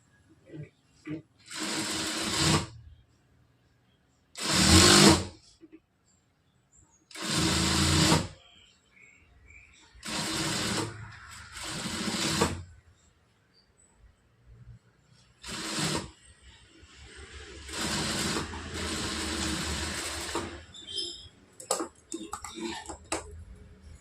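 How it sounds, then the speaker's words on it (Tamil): Domestic sewing machine stitching a blouse, running in several distinct bursts of a few seconds each, separated by short pauses, loud and close with faint background noise. "இதுக்கு மேலே தையல் போட்டுக்கலாம்"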